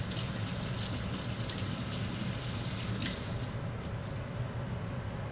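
Hot water pours from a kitchen tap in a steady, unbroken rush that stays close and even throughout, with no talk.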